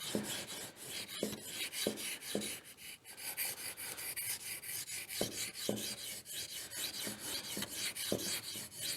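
Steady rasping strokes of a knife blade drawn across a 3000-grit whetstone while polishing, repeated in a smooth back-and-forth rhythm, close and fairly quiet with no talking.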